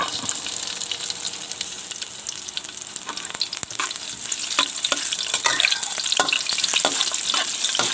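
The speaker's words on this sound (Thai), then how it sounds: "ใส่กระเทียมกับพริก ที่บุกไว้" Garlic and chili stir-frying in a pan, a continuous close sizzle and crackle with frequent spatula scrapes and taps throughout, no voices.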